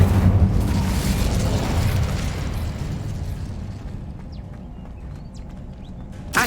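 A fire spell cast in the Hogwarts Legacy video game gives a loud, dense whooshing roar. It fades gradually over several seconds, with a sharp burst right at the end.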